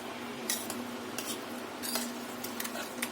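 Curd rice being spooned from one bowl into another, heard as a series of light metallic clinks and scrapes of a spoon against the bowl, close and fairly quiet.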